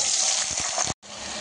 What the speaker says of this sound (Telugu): ఇలా ఆలూ అంతా వాటర్ డ్రైన్ చేసేసుకొని వేసేసుకోవాలండి.